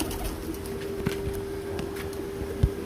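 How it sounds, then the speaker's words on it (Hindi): A female pigeon gives soft, low cooing amid faint background hum and small rustles, close but quiet over a couple of seconds. "बड़ी अच्छी मादी है ये भी माशाल्लाह। 41 नंबर मादी है माशाल्लाह से।"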